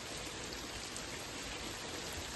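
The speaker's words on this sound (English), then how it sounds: "it is raining out here" Heavy rain pours down in a dense, even hiss, steady and unbroken throughout with no voices.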